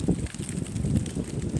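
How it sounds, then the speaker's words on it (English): Steady low rumbling gusts of wind buffet the microphone outdoors on the Berry College campus in Rome, Georgia, a continuous blustery roar with no voices. "it is windy out here today"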